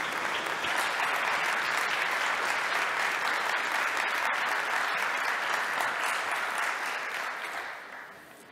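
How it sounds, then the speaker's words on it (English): An audience at a university academic anniversary ceremony applauds steadily and warmly, a full, even wash of clapping that fades out over the final second. "we will send him a big applause"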